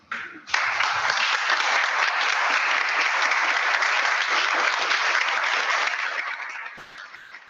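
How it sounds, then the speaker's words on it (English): A room of people at a village board meeting stands and applauds the local police department, a sustained, dense round of clapping that starts abruptly, holds steady for several seconds and tapers off near the end. "And I want you to stand with me and join in a round of applause."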